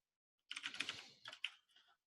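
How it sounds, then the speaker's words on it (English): Quick, uneven bursts of keystrokes on a computer keyboard, close and fairly faint, with a short pause near the middle and a softer flurry at the end; no one speaks. "not typing very well"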